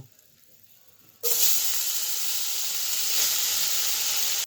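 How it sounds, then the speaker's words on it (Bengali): Grated raw mango dropped into hot refined oil tempered with panch phoron and dried red chillies, setting off a sudden loud, sustained sizzle and hiss that starts abruptly after a quiet moment and continues close up. "তো গ্রেট করে রেখেছি আমটা দিয়ে দেব।"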